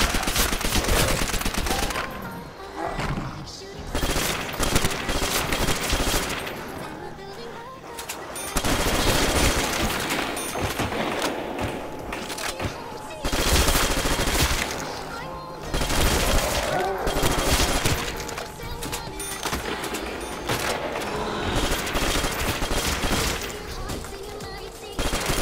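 Repeated automatic gunfire in Call of Duty World at War Zombies, loud bursts of rapid shots broken by short pauses, with game ambience between volleys.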